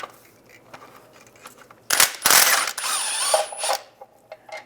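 A hand ratchet loosening 15mm transmission bolts on a 2007-2013 Chevy Silverado during rear main seal cover work: a loud, close burst of rapid clicking and metallic whirring lasting under two seconds, with quieter tool handling before and after.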